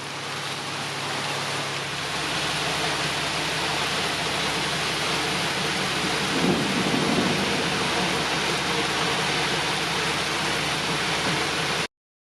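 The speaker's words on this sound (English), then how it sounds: "We hear the thunder and the lightning out there." Steady, dense rain hisses throughout, with a brief low rumble of thunder in the middle before it cuts off, during a thunderstorm in the Adirondacks.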